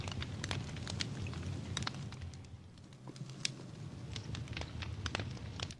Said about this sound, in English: you can hear the campfire crackling.